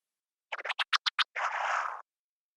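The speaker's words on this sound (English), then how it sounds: "And now for this scratch sound" A record scratch: six quick chopped scratches in rapid rhythm, then one longer rasping scratch, crisp and isolated against silence.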